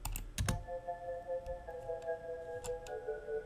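The Pure Murmur preset of FL Studio's Autogun synth plays a quiet, sustained cluster of layered tones that hums steadily throughout. Sharp clicks of computer keys tapping land near the start and again toward the end.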